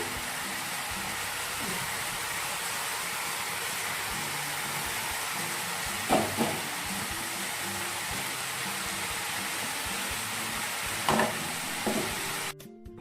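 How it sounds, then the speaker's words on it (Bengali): Leafy greens with cumin powder and a little water sizzle steadily in a pan, a continuous close hiss with a couple of brief stirring clatters and no talking. "জিরে গুঁড়ো সামান্য জল দিয়ে একটুখানি শাকটা দিয়ে দিলাম"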